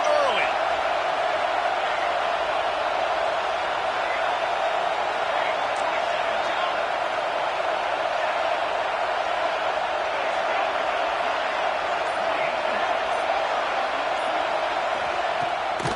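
Loud, constant roar of a stadium crowd at a college football game, a dense unbroken wall of cheering and noise filling the whole stretch.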